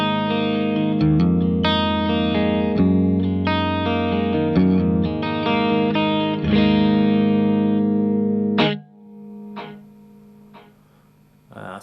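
Distorted electric guitar chords and notes through amps with a long mono delay and reverb, loud and sustained, then a few sparse hits trailing off into echoing tails.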